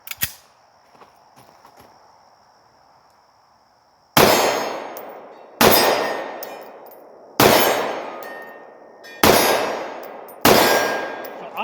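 A Sig 250 pistol fires five shots at steady intervals, each sharp crack ringing off a steel target with a metallic clang that decays slowly, after a quiet stretch with faint handling noises.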